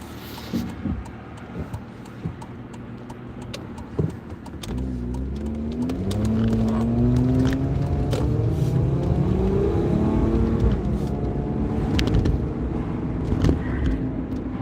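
A car engine revs and accelerates as the vehicle pulls out onto a road, a steady loud drone rising in pitch midway and holding, with no talk over it.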